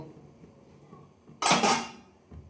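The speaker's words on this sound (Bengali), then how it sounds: "এবার প্রথমে উপরের ঢাকাটাকে তুলে নেব" A metal lid is lifted off a steamer pot holding an egg and milk dessert, making a sharp clattering clang after a quiet moment, then a short ringing tail and a faint clink.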